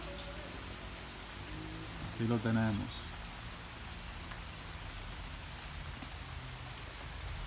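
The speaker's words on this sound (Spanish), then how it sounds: "Mucha lluvia." Heavy rain falling over countryside with avocado and plantain trees, a dense steady hiss of drops on leaves and ground throughout, with someone briefly speaking near the middle.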